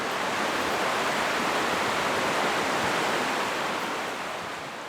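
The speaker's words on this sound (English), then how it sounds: "the highway noise fades into the sound of Short Sand Creek rushing toward the ocean" Short Sand Creek rushes toward the ocean on an Oregon beach in a thick, continuous roar of moving water. It stays steady and close throughout and eases slightly at the end, with no voices.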